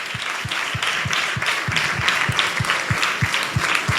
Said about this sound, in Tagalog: Lahat ng anak ng Diyos na pwedeng pumalakpak, palakpakan natin ating pinakamamahal na Panginoon Jesus.